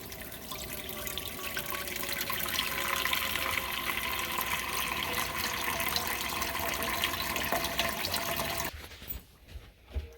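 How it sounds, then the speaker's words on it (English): Tap water runs steadily into a cooking pan for about nine seconds, a loud, even splashing rush that cuts off abruptly near the end, leaving a few faint clinks. "We will do that by starting with getting water in our pan."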